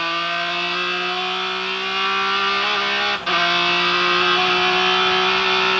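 Onboard engine of a GT race car at Sebring International Speedway in 2003 Speed GT racing, a loud steady high-pitched drone with a brief dip like a gear change midway, then carrying on strongly.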